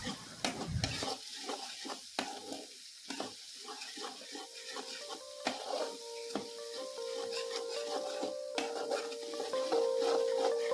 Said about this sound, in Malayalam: നന്നായിട്ട് ഇളക്കി കൊടുക്കുക അടി പിടിക്കൊന്നും ചെയ്യരുത്